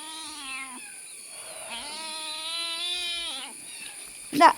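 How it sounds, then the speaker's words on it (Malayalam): A cat meows in long, drawn-out, wavering cries, close by and fairly loud, ending with a sharp brief clatter. "പൂച്ച കറരുത്."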